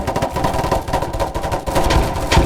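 Rapid bursts of gunfire from a shooter video game, dense and continuous with sharp cracks layered over a busy mix, loudest near the end.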